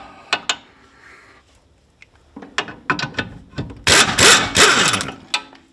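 Metal clunks, clicks and a burst of ratcheting as a brake caliper carrier is worked loose and pulled off a Fiat Panda 4x4, close and fairly loud, with brief pauses between the mechanical knocks.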